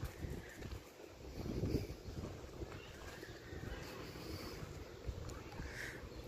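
Wind gusting across an outdoor burial site, a steady low rumble of buffeting on the microphone with a swell near the second mark; faint voices may be present.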